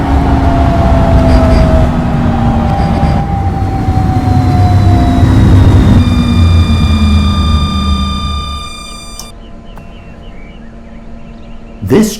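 A London tram pulling through Croydon in a transport simulation game, with a loud, steady low rumble and rising motor whine that fades out near the end, followed by a short clunk.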